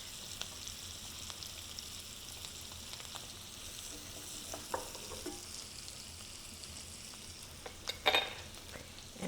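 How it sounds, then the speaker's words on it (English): Minced garlic sizzles as it hits a hot pan for Chicken Vesuvio, a steady close frying hiss with small pops and a brief burst of stirring near the end. "Then we're going to add our garlic."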